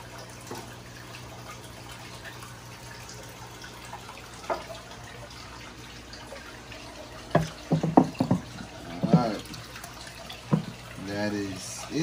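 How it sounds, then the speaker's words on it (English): Water splashing and pouring into a 240 gallon freshwater aquarium tank, a low running wash with intermittent louder splashes and gurgles toward the end, a voice talking at moments. "I finish adding this water into this tank"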